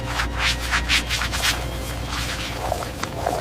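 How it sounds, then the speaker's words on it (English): A soft brush works around the toggles of a McLaren P1 interior, then a microfiber cloth wipes the surface, giving a close, continuous rubbing and swishing with rhythmic strokes. "A very light touch with the brush around the toggles, followed by a gentle wipe with the microfiber cloth"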